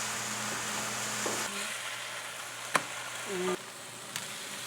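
A chuck roast smash burger sizzles steadily while frying, a continuous hiss with a few sharp clicks and scrapes of a spatula, no voices present.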